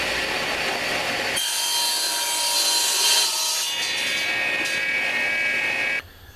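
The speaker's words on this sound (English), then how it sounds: "Helps if I plug in the saw." A power saw cuts through a veneered wood board, a steady, loud whining rasp that runs for several seconds after a short lead-in of rubbing noise, then stops abruptly.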